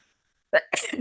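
A single sneeze, close and sharp: a quick intake followed by a forceful, hissy burst that cuts off abruptly.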